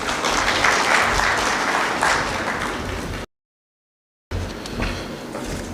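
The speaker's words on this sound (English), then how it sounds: "Please welcome him with a big round of applause." Audience applause at a North East investors summit road show, a steady broadband roar of many hands clapping, loud and sustained, broken by a short full dropout before resuming.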